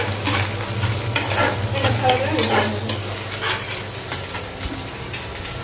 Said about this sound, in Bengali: তো ডিম ভাজা নেওয়া শেষ